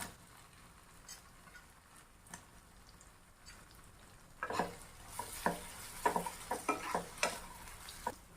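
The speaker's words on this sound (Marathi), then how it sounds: "बटाटा परतून झाला की यात टाकूयात गरम मसाला कश्मीरी लाल तिखट मीठ" Potatoes sautéed in oil with a wet coconut paste and tomato for dhaba-style chole bhaji, heard as a soft sizzle with intermittent stirring scrapes that grow louder and busier in the second half.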